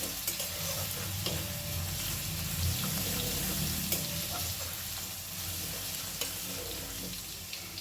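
Grated garlic stirred into a hot frying pan for kadhi pakora, a soft steady sizzle with scraping stir strokes and small clinks, close and alone without talk.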